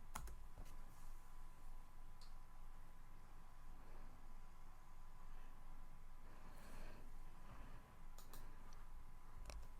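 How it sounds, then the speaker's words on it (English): Someone typing a password on a computer keyboard, quiet irregular key clicks pattering over a faint background hum, no voices. "Select your account and type your password."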